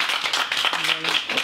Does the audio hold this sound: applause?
yes